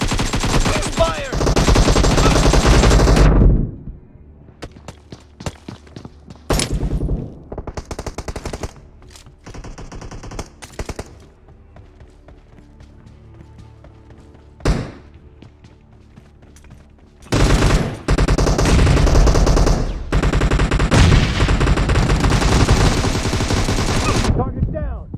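Loud sustained bursts of automatic gunfire ring out in the PUBG Mobile battle game, with long sprays at the start and end and scattered single shots and short bursts between them, and game voices come through in places.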